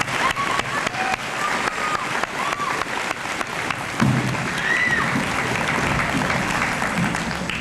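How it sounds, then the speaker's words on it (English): A crowd at a high school honors assembly applauds academic award students and National Honor Society inductees, with continuous, fairly loud clapping throughout and some faint tonal sounds mixed in. "Let's give all these academic students another nice round of applause."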